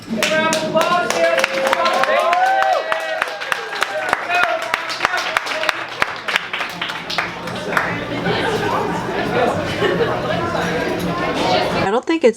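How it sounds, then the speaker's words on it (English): Applause breaks out at a 14 lb Beau Jo's pizza eating challenge in Colorado, with sharp overlapping claps mixed into loud, busy restaurant chatter and voices for the length of the clip, and a sudden stop near the end. "Round of applause here."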